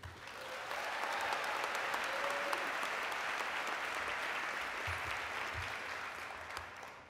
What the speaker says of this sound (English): Please join me in giving a huge hand of applause to Michelle Turner.